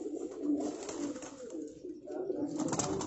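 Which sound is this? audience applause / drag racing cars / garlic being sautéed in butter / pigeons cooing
pigeons cooing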